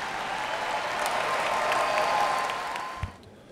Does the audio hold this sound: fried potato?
no